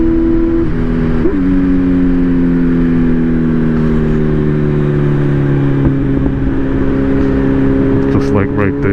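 A Kawasaki Z900 motorcycle with a Brock's Performance ECU flash hums along under a gentle, smooth throttle roll-on, its engine note rising slowly and steadily, heard from the rider's position with wind noise throughout.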